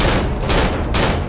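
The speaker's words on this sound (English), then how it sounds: "Only way that I can see is literally by shooting my gun." Gunfire in the horror game Cry of Fear: a loud, dense burst of overlapping shot blasts with two sharper cracks standing out in the middle.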